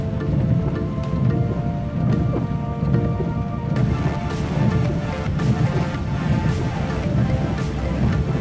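Steady rain pours down, a dense continuous hiss of drops on surfaces that stays loud and even throughout.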